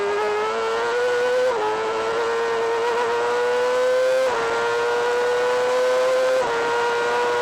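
Yamaha and Suzuki 600 Supersport motorcycles racing in New Zealand, a loud, close engine howl holding high revs, dropping briefly at gear changes and climbing again several times.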